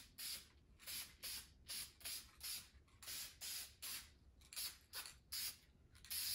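Short bursts of aerosol spray hiss in a steady rhythm as finish is sprayed onto a carved pintail drake decoy, about a dozen quick sprays close by, separated by brief pauses.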